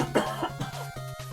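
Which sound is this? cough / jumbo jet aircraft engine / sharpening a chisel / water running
cough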